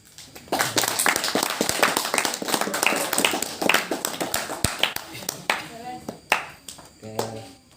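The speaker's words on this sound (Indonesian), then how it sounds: "Barangkali dengan tepuk tangan." An audience at an Indonesian youth community evening applauds, a burst of clapping that swells quickly and then thins out into scattered claps, with a few voices talking over it near the end.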